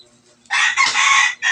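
Chicken on a farm giving a loud, close clucking call that starts after a quiet moment and breaks off briefly before resuming.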